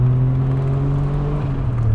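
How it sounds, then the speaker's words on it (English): A Suzuki Cappuccino's three-cylinder engine drones loud and near through an aftermarket exhaust, holding a steady, throaty tone that slowly drops in pitch, with no voices. "Someone put some exhaust on this thing to really liven up the 3-cylinder, and it works, and it really is a loud exhaust."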